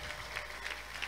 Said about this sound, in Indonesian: tepuk tangan untuk Pondok